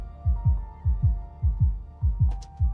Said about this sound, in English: With the heartbeat in the background.